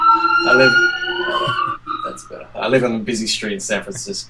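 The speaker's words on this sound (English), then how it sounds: "Excuse the sirens going past." Emergency vehicle sirens wail, rising and falling in the distance beneath a person talking close up, the tone sliding as they pass.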